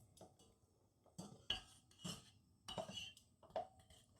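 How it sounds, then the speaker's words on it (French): A spoon stirring a homemade organic Ayurvedic deodorant mixture in a bowl, giving a few separate clinks and scrapes against the dish at irregular intervals, close and fairly quiet. "Donc on mélange bien pour ne plus avoir de grumeaux."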